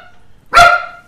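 A single loud dog bark, sharp and close, rising abruptly out of a quiet room and ringing briefly before fading.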